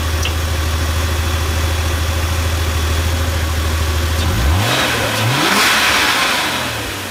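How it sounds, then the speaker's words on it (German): A 1995 air-cooled Porsche 911 Cabrio idles with a loud, steady, throbbing burble, then the throttle is blipped and the engine rises into a sharp rev, falls back and revs once more, all close up. "Man kann ja mal kurz aufs Gas drücken."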